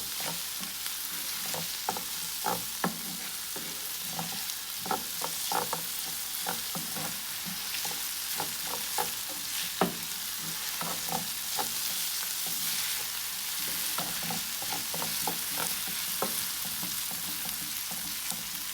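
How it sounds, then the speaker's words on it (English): Ginger and garlic frying over a medium flame, a soft, even sizzle running throughout, dotted with small crackles and light stirring taps. "Leave it on a medium flame for 5 minutes to allow the ginger and garlic to fry."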